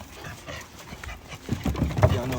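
Several dogs pant quickly and rhythmically up close, with scuffling paws and small whimpers, the activity growing busier toward the end.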